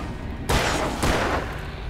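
Two loud gunshots ring out about half a second apart in the video game Alan Wake, each followed by a short decaying echo.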